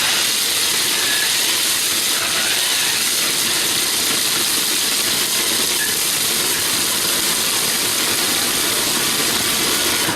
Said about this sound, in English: we're going to pop the lid back on, and we're going to whirl this until it comes to that it breaks down quite a lot